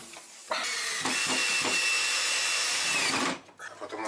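Power drill driving a screw into a kitchen fitting under a cornice, giving one sustained close, loud whir of nearly three seconds. Brief clicks come before it and faint handling noise after.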